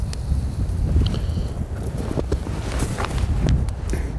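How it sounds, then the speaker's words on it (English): Wind blowing hard outdoors across the microphone, a close, loud, buffeting rumble that gusts continuously with a few faint knocks. "because I'm blocking the wind, because it's windier than"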